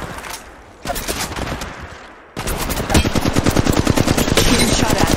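Loud rapid-fire automatic weapons in Apex Legends Mobile, several bursts of fast rattling shots that grow denser and more sustained toward the end, close and without speech.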